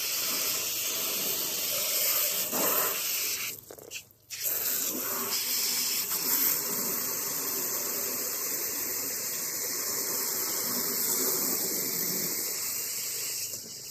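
Water spray hisses steadily as a hose rinses loose dirt off a car, a continuous close broadband spray with a brief break a few seconds in.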